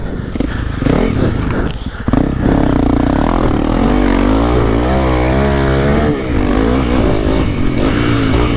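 Honda CRF300L dirt bike being ridden, a loud continuous engine drone that rises and falls with throttle changes, close and steady with rough rattling underneath.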